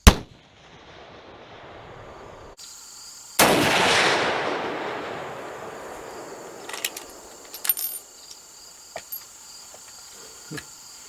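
A single sharp gunshot from a Savage 99 lever-action deer rifle, loud and close, ringing out with a long decaying echo across open ground, followed by faint metallic clicks of the lever action.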